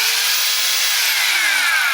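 Makita angle grinder spinning freely after fresh lubrication, a steady high-pitched whine and airy rush held at constant loudness throughout, close to the listener with no talking.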